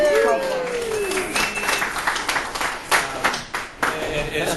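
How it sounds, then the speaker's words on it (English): Polite, scattered clapping from a small audience at a hotel gathering, a brief round of applause with uneven claps close by in a quiet room. "So a golf applause."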